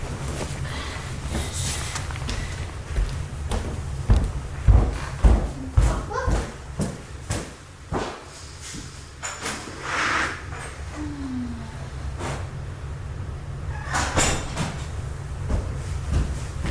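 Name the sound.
door being opened to let a pet out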